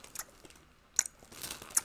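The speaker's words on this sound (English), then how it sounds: "Get your mouth close to it so you can make the sound of you chewing it." A sesame ball is chewed right against the mic, giving a few sharp, crisp crunches spread through a short, quiet stretch, with soft mouth noises between them and no talking.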